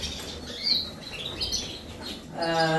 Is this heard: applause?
no